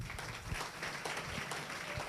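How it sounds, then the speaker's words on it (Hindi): Applause from students in a classroom at a career institute, a dense patter of hand claps with a few sharper claps standing out, steady and moderately close throughout. "ताली बजाओ।"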